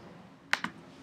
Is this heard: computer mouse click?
yes